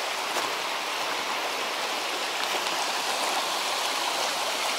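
The third cascade of a river waterfall in Toila rushes in a steady, close, broadband roar of falling water that never lets up, with no voices over it.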